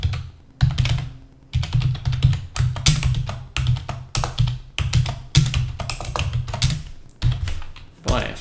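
Rapid clusters of close, crisp keystrokes on a computer keyboard while writing Java code, coming in uneven bursts separated by short pauses.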